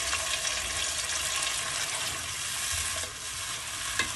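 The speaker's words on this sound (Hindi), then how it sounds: "अब हम इसमें टमाटर प्यूरी डाल देंगे।" Tomato puree sizzles in a pan with ginger and garlic. A steady, close frying hiss carries a few soft stirring scrapes, with no talking.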